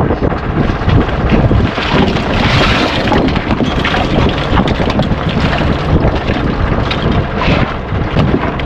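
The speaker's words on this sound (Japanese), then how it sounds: "風がいつまで吹くのか" Strong wind roars steadily across open sea, buffeting the microphone with a loud, continuous rush from a boat on the water.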